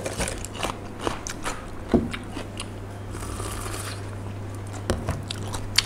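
Squid tentacles dipped in seafood sauce being chewed close up, with soft crunchy bites and wet squishing repeating steadily under a constant background hum, no talking.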